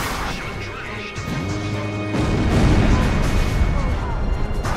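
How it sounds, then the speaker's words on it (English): Cannon fire during an aerial dogfight in the Ace Combat 5 video game, a loud continuous rumble of shots and impacts that swells in the second half, mixed with game voice chatter. "Damn, they've got cannons."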